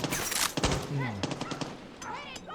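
Gunfire from the video game Far Cry 6 comes in short bursts of sharp shots mixed with game effects, while someone talks over the action.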